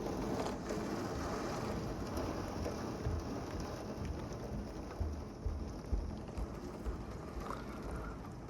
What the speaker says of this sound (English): It is raining so hard right now.